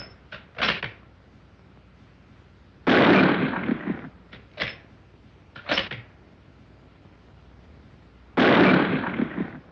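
Rifle firing in a restored Disney WWII animated cartoon: a series of sharp, close cracks, some in quick pairs, with two louder, longer blasts that ring out briefly over a quiet background. No voices are heard.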